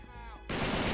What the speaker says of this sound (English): Is the gun too loud?